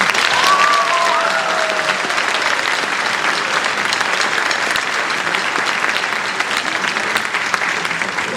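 Audience at a high school spring band concert applauding scholarship awardees, a dense, steady round of clapping filling the room for several seconds.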